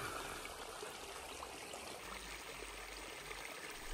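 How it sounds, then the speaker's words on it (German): Steady trickling and splashing of a stream runs unbroken throughout at a low level in a quiet, hot outdoor spot in Mauritania, with no voices. "Das Plätschern, die Ruhe,"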